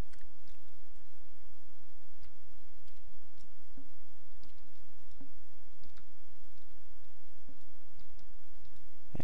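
Keyboard keys clicking while tabbing through form fields, sparse light taps at irregular intervals over a steady background hiss, close and faint.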